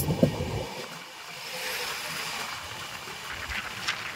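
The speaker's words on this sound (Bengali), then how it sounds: "এটি হচ্ছে ইস্ট কোস্ট এক্সপ্রেস।" The East Coast Express train rushing past close by, a broad rumbling roar that swells and wavers throughout with a few clanks.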